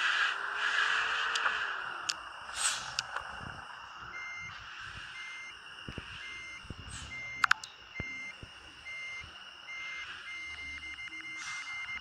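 Bus reversing beeps in the Bus Simulator Ultimate driving game, a steady run of evenly spaced electronic tones sounding alone over a faint engine hum, with a few sharp clunks.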